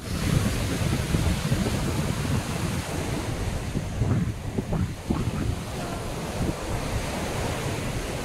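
Sea waves washing onto the shore at Vadanappally Beach in Kerala, a loud continuous rumbling surf mixed with wind buffeting the microphone, with no talk.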